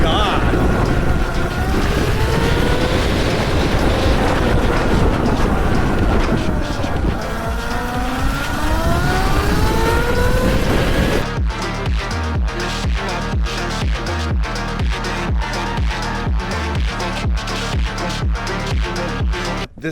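72-volt gearless electric dirt bike riding with a rising and falling electric motor whine under rushing wind noise, then a rhythmic pulsing pattern in the latter half, loud and close.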